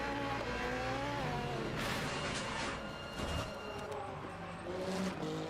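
LMP2 race cars in the Le Mans Ultimate racing game scream past with engine whine rising and shifting pitch, a steady loud drone with a few sharper whooshes.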